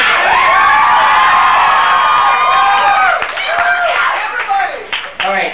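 Comedy show audience cheering and clapping loudly, a dense steady roar of applause with shouts over it that thins out near the end.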